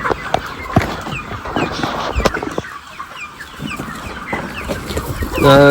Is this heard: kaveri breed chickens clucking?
yes